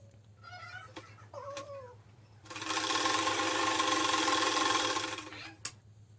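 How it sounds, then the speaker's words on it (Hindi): An electric sewing machine stitches a frill onto a kurti made from an old dupatta, running in one steady whirring burst of about two and a half seconds after brief fabric handling sounds. "उसे मैं ऊपर से फिर सिलाई दे दूँगी ताकि वो अच्छे से बैठ जाए नीचे की ओर"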